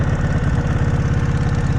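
A 2005 Kawasaki Vulcan 750 motorcycle engine idles steadily up close, set too high, a fast, even low-pitched putter with no pauses and no voices.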